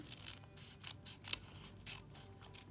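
Scissors snip through adhesive foam dimensionals while a handmade card is made, giving several close, crisp rhythmic cuts with light rubbing between them and no talking.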